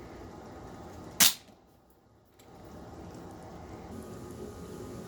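A .20 gram airsoft BB fired at 190 FPS strikes an Otterbox Defender phone case, one sharp, loud snap followed by quiet room ambience.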